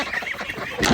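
Backyard flock of geese and ducks being let out of their coop in the morning, a busy overlapping chorus of close honks and quacks that grows louder at the end.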